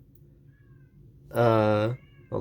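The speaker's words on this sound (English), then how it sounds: "Excuse my annoying cat." A cat lets out one loud, drawn-out meow close to the microphone, starting a second right after, between brief quiet words from a man.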